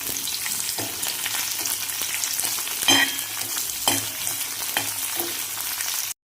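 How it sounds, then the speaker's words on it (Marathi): A steady, loud sizzle of onion and curry leaves frying in oil, with occasional scraping and stirring clatter from a utensil in the pan. "कांदा आणि कढीपत्ता टाकून घ्यायचं आणि छान असं परतून घ्यायचं"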